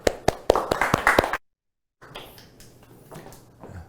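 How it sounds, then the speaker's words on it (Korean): Audience at a product user meeting giving a short burst of crisp, fairly close handclaps that stop abruptly, followed after a pause by quiet room noise and a soft voice. "박수로 좀 모시겠습니다."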